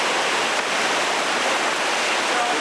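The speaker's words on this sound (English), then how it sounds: "Either way you go, it's a long rapid." A long whitewater river rapid roars steadily in a dense, unbroken wash of rushing water, loud and close throughout with no talk.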